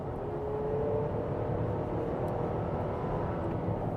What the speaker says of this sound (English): There's a little bit of kind of like wind-up noise as the turbo spools up